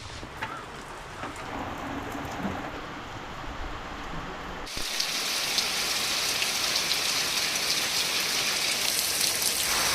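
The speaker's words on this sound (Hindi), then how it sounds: "पिछले 15 मिनट से लगातार बारिश हो रहा है" Steady, continuous rain pours over a village's lanes, a dense even hiss that swells noticeably louder about halfway through and then stays heavy, with no voices.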